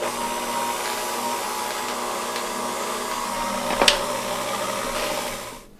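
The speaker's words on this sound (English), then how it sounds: "We've got 5 bricks of cream cheese in our mixing bowl with the whisk attachment. Let's get that going first." Stand mixer with a whisk attachment beating five bricks of cream cheese in a mixing bowl, a steady motor whir with a brief rattling spike near the end, running alone without voices.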